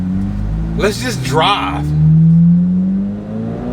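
A Chevrolet Corvette C8 Z06 with a 670 hp engine revving to 8600 rpm, a deep rumbling idle swelling into a loud rising drone as it accelerates, while someone speaks briefly over it.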